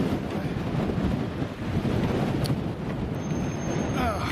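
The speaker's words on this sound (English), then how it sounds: "it's quite windy today" Strong wind buffets the microphone with a continuous low roar and rumble, steady throughout with slight gusting surges.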